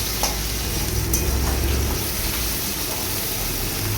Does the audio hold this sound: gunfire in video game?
no